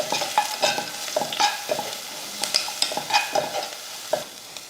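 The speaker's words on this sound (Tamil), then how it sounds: "இப்போ இதை வதக்கிடுவோம்" Ground rasam paste with asafoetida and turmeric being sautéed in a pan, heard as repeated close scraping stir strokes over a light sizzle, with no talking.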